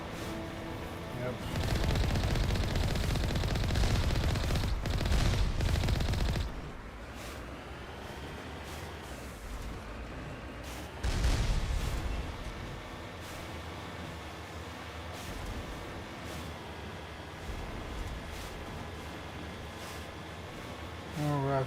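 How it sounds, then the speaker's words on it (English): Rocket launcher blasts and gunfire in a Mass Effect firefight, loud bursts of shooting early on that fade to a quieter stretch, with another burst midway, and a voice talking over parts of it. "Oh, rocket launcher heavens."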